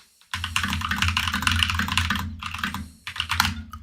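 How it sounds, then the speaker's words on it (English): Steady typing on a computer keyboard at a home desk, a dense run of close clicks and clacks that pauses briefly near the end before resuming, heard alone without talk. "I don't know why I said that as I was typing it."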